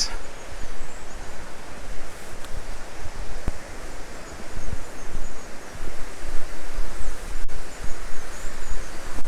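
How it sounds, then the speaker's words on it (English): Rushing waterfall in a country park, a loud continuous broadband roar of falling water with gusty swells, heard close with no talk. "We're just coming up now to our second waterfall."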